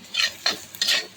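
Spices for a spicy potato masala sauté in a pan, heard as three quick bursts of sizzling and stirring scrapes over a second. The sound is close and there is no talk.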